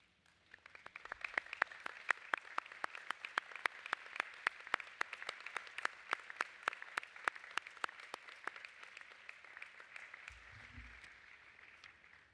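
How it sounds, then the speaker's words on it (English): A graduation ceremony crowd gives a sustained round of applause, dense clapping with a few sharper near claps standing out, holding steady for about ten seconds before thinning out at the end. "join with me in offering these people a round of applause"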